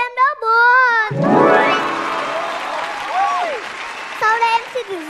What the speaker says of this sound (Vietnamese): Xin các bác vỗ tay cho em đỡ buồn.